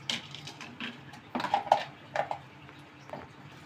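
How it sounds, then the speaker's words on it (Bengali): A spoon clinks and scrapes inside a pot as browned onions are stirred with ginger-garlic paste and cumin paste for chicken bhuna khichuri. A few short metallic knocks and rattles come up close, with no talk. "আদা রসুন জিরাটা একটু আমি এভাবে একটু কষিয়ে নেব।"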